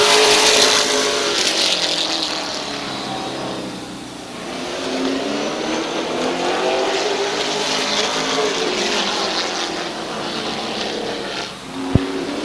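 Dirt-track race cars going round Midvale Speedway, engines roaring loud and near, pitch rising and falling as the cars pass, a continuous engine drone with no voices heard.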